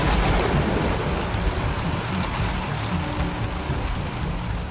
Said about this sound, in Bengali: 12টার পর থেকেই তুমুল বৃষ্টি শুরু হলো, আর তার সঙ্গে মেঘের গর্জন।